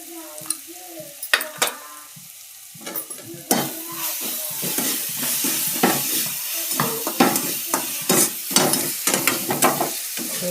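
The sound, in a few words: chilli garlic ginger paste sautéing with turmeric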